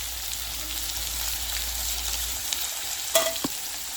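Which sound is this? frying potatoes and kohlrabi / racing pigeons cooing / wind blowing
frying potatoes and kohlrabi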